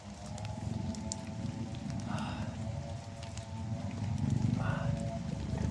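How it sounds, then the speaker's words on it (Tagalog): Steady heavy rain drums on a surface with a constant dense hiss, occasional brief murmurs heard faintly beneath the downpour. "Grabe namang ulan to. Walang tigil ang ulan guys."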